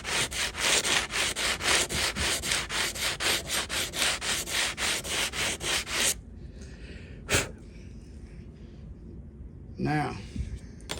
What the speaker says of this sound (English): We want to sand it, and all we're doing is hitting the high spots.